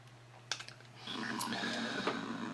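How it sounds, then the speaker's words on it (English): A clicky joystick fire button on a Dragon 32 home computer snaps in a few quick clicks, then a busy run of bright electronic game tones and bleeps carries on steadily to the end. "I'm using the joystick, so you'll have to excuse the clicky fire button"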